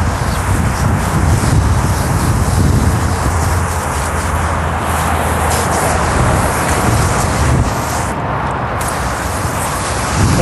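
Steady, loud broadband hiss of a Nomad Mini pressure washer spraying water, a continuous rushing roar with no breaks and no voices.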